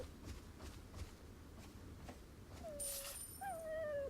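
A dog whimpers in Resident Evil 4, with a few thin, wavering whines rising and falling near the end over a low, steady game ambience.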